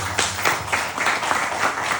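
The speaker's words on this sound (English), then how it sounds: "Please give her a nice round of applause" Round of applause from guests at a 90th birthday puja and anniversary yagna, a steady wash of clapping from a modest gathering heard alone for a couple of seconds.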